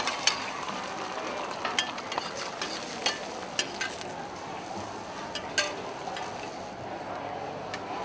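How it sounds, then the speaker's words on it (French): Rice noodles pan-fried with soy sprouts and small vegetables for pad thai in Bangkok: a steady close sizzle broken by sharp metallic spatula clicks and scrapes at irregular intervals, with no voices. "La pâte de riz est poêlée avec des pousses de soja et autres petits légumes."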